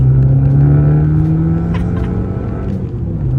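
Abarth 500 hot hatch on a track pulling hard, its small engine revving loudly and steadily climbing in pitch with a droning, buzzy exhaust note, close and continuous with no talk.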